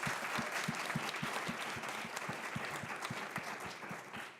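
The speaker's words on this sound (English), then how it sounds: "Let's give them a round of applause." Audience applause at a Rhode Island State Senate summit on higher education, a steady sustained clapping from a room full of people, moderately loud and continuous throughout with no talk over it.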